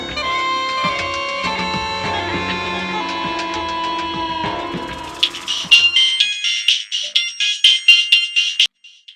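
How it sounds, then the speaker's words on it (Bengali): An electronic phone ringtone plays a bright synthesized melody, then switches to rapid repeated chiming beeps, loud and close, with no talking. "ফোনটা বাজছে মনে হচ্ছে"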